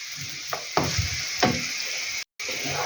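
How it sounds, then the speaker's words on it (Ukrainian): Onion frying in a pan, a soft sizzle with a few clinks and scrapes of stirring, fairly quiet and close, with a brief dropout near the end. "І буду ставити, смажити спочатку цибулю."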